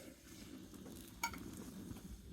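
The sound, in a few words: stirring couscous in boiling chicken stock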